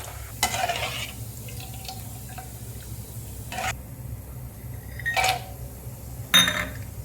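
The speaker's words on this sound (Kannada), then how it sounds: "ಶೇಂಗಾ ಹುರ್ಕೊಳ್ಳೋದಕ್ಕೆ ಉರಿ ಮೀಡಿಯಮ್ ಇರಲಿ" Peanuts roast in a pan over a medium flame, giving a soft, steady sizzle with a few scraping stirs and clinks near the start and again toward the end, close by with no talking.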